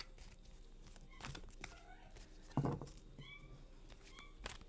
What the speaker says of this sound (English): Do you hear my cat?